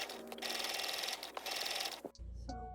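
A sewing machine stitches an apron onto the front of a garment, its dense, steady whir running for about two seconds before it stops and a brief low clunk follows.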